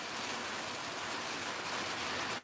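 Steady rain pours down outdoors in a dense, even hiss that holds constant before cutting off abruptly at the end, with no voices over it.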